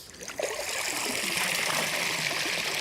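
Water steadily drains and trickles out of a pool cleaning robot just lifted from a clean swimming pool, a continuous close splashing stream that holds level throughout with no talking.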